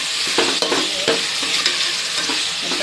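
Mint and tomato frying for chicken biryani, with a loud close sizzle and repeated scraping stirs of a spoon in the pan.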